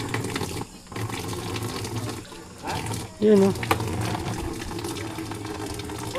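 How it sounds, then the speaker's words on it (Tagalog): Rainwater splashes and trickles steadily into a drum, a continuous watery pour with brief louder gushes, while people talk over it. "Nagsasali na ng tubig"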